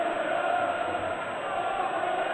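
Darts crowd at the Grand Slam of Darts 2012 chanting Phil Taylor's name, a dense, steady sung roar from a packed arena that holds evenly throughout without pause.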